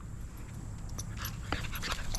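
A dog panting at a campground dog park in Hot Springs, Arkansas, quick soft breaths close by with a few faint whimpers, under light outdoor background noise.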